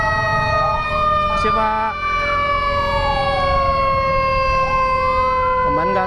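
Wailing ambulance siren sweeping up and down in pitch, loud and steady from a nearby emergency vehicle on a road, with a few brief voices and traffic rumble underneath.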